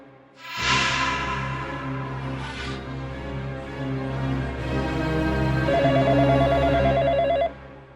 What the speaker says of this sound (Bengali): এত রাত্রে আবার কে ফোন করলো?